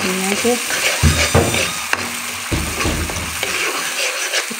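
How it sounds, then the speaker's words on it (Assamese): Spice paste frying in hot oil with panch phoron and stirred, a loud close sizzle broken by several quick scraping and clattering spoon strokes against the pan, no voices. "মই মছলাখিনি তাতে পেষ্ট যে বনাই থৈছিলোঁ সেই পেষ্ট বনাখিনি তাতে দি দিলোঁ"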